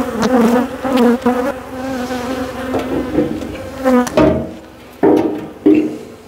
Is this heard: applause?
no